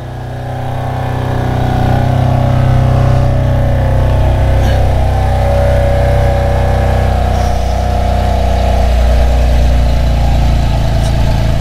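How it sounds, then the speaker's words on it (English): A 2018 BMW M3 CS engine fires up from cold, swelling quickly to a loud, steady, deep-toned idle that drones on for several seconds with a slight dip in pitch later on. "Cold start."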